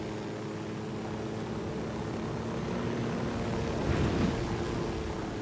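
A helicopter in Ghost Recon Wildlands drones steadily with a low rotor rumble and broadband wash, swelling slightly louder near the end, with no voices.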